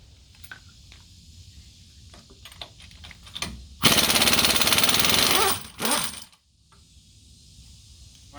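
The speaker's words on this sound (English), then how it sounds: "Alright, so now that we got the lug nuts off," Near and loud, an impact wrench rattles in a long burst, then a shorter one, as it spins lug nuts off a Duramax diesel truck's wheel, with light clinks and shop noise before and after.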